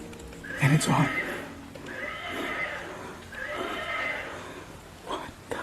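A toy horse gives a neigh followed by two longer whinnying calls, moderately loud and close, with quiet background noise and a brief click at the end.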